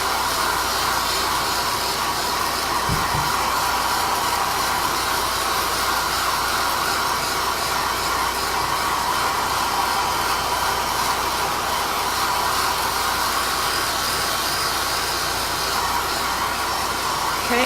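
A hair dryer blowing on Mod Podge on a craft page, giving a loud, steady, unbroken hiss and whir from start to finish.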